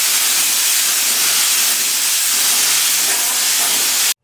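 Aerosol spray can laying a third tint coat onto amber taillights for a Roush, a steady close hiss that runs unbroken for about four seconds and then cuts off abruptly.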